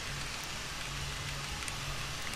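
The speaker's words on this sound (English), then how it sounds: "do you think we can get through this rain?" Steady rain falls in the video game Rain World, a dense, continuous hiss that runs evenly through the whole moment with no talking over it.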